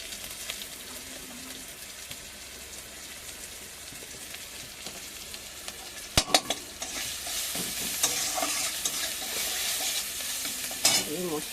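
Spices with chili powder stirred and frying in a pan, a steady close sizzle with scraping stirs and a sharp clack partway through, no talking.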